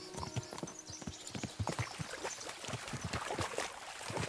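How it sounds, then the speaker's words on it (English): Horses' hooves clip-clop in a quick, steady galloping rhythm across a stream crossing in the video game Kingdom Come Deliverance II, loud and close with a faint watery wash beneath. "we'll give the horses a gallop again"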